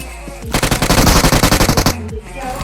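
DBS shotgun firing in BGMI, a rapid burst of about a dozen loud, sharp shots in quick rhythmic succession lasting over a second, close and punchy against faint game ambience.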